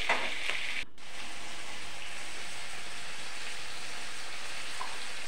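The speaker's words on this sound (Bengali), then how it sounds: "তারপর সমস্ত সবজিগুলো দিয়ে দেব, সব ভেজে নেব।" Mixed vegetables for chilli chicken frying in a hot pan, a loud continuous sizzle with a brief clatter near the start, then steady crackling throughout, no talking.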